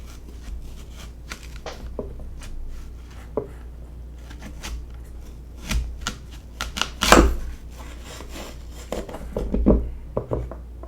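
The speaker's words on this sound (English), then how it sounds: "if you cut your apple sideways like this, I'm going to cut down" A knife slices sideways through an apple, with scattered soft taps and scraping cuts building to a couple of sharper crunchy chops, close and fairly quiet, no talking.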